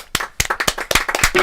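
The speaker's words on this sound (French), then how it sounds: "on peut t'applaudir bien fort." A handful of people clap for a guest in a radio studio, with quick irregular claps, close and distinct, over a short burst.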